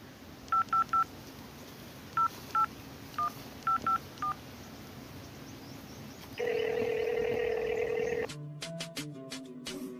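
A quick run of telephone keypad tones beeps out in short clusters, followed by a steady, buzzing line tone before a few final pulses.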